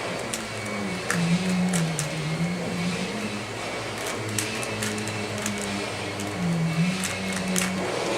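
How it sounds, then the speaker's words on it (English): A household vacuum cleaner runs nearby indoors, a steady loud motor drone with a wavering low hum that rises and dips, continuous throughout with no one talking. "Stupid vacuum, here we go."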